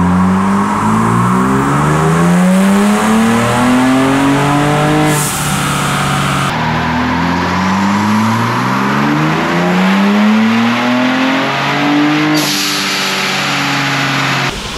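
A Ford Bronco Raptor engine revs hard through repeated dyno pulls, its loud rising tone climbing again and again through the gears, close and alone.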